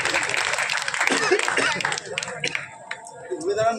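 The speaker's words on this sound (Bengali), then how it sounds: "হাততালি।" Crowd clapping at a Jagaddhatri Puja gathering, scattered applause mixed with voices and loudspeaker talk, moderately loud and uneven.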